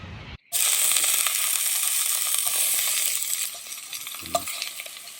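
Sausages frying in a pan at a riverside campsite, a steady bright sizzle that starts abruptly after a brief silence and holds close and loud, with a few small stirring knocks near the end.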